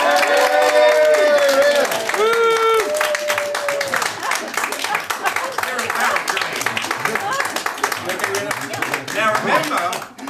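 A live audience claps, cheers and whoops for Rita, with dense applause building under loud whistles and shouted voices near the start, then steady clapping and crowd noise filling the rest.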